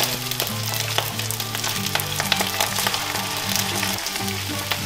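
Rice sizzles and crackles loudly in a hot pan as seasonings and Asian barbecue marinade are stirred in, with dense continuous frying hiss and occasional spatula scrapes, no voices.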